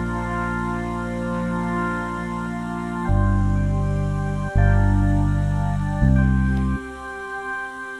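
Synthesized vocal voice from the KORG Module Pro app plays sustained chord tones that change pitch in a few steps, loud and alone with no talk.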